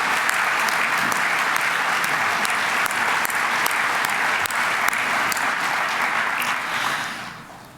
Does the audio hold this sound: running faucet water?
no